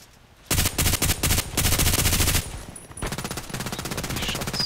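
Automatic gunfire in the video game Contract Wars comes in dense, rapid bursts with brief gaps, then a long sustained stream of loud, close shots.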